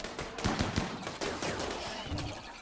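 Rapid video-game gunfire in the midst of a battle, with sharp shots arriving in quick irregular bursts over a busy background of combat noise.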